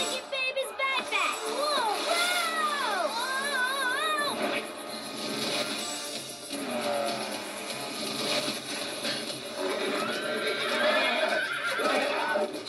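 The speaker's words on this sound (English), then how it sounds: "That horse will never be ridden." Horse neighing in a long, loud, wavering whinny with repeated rising and falling cries up close, followed by more agitated neighs and snorts over a busy background.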